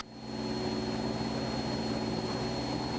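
A small airplane's engine drones steadily and loudly through a flight on a rainy day of circuits, with a constant high whine over a low rumble and no pauses.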